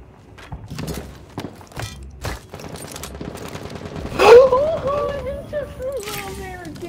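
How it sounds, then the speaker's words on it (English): Gunfire in a tactical shooter video game, scattered sharp shots and bursts ringing out at mid distance amid footsteps and game noise, with players talking over it. "Somebody's shooting at me,"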